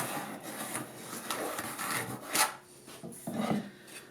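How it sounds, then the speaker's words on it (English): A pencil is drawn around a template on a wooden segmented bowl blank in a woodturning workshop. Close, scratchy graphite strokes come in short uneven bursts, fairly quiet and heard without talking. "Draw a line around there."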